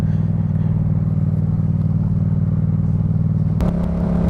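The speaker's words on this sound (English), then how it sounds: "I don't want to scare the horse with this this beautiful exhaust." A 2014 Yamaha MT-07 motorcycle engine idles with a steady, throbbing exhaust burble, then briefly changes tone with a clunk near the end.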